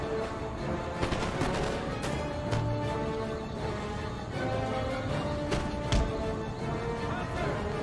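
Musket volleys crack out in scattered bursts across an Empire: Total War battlefield, sharp reports at irregular intervals over a dense background rumble of battle noise, several shots landing close together.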